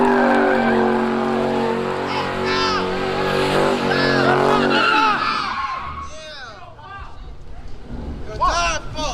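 Car tires squeal and skid loudly on the road at a car meet, a long screeching burst over engine roar that fades into scattered voices and crowd noise.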